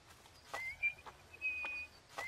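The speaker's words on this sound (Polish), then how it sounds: "Dlaczego gwizdzesz?" Quiet, thin whistled notes rise and hold, repeated a few times with short gaps between them, like someone whistling to birds outdoors.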